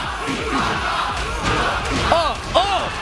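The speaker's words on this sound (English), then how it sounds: "the crowd is getting me hyped right now" A tournament crowd at a Tekken 7 event in Philadelphia roars and shouts in excited bursts, with loud whooping cries rising over a continuous dense cheer, close and energetic.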